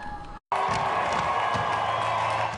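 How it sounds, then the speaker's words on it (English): A sellout crowd at Dodger Stadium on opening day roars and cheers loudly and steadily after a brief gap, a dense wash of distant voices and whoops with a few nearer shouts. "Behind me, part of the sellout crowd."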